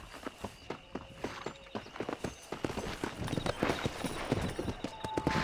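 Hooves of a ridden horse in the Red Dead Redemption video game, a steady run of crisp clip-clops at a trotting pace that picks up slightly and grows busier toward the end, close and clear with no talk.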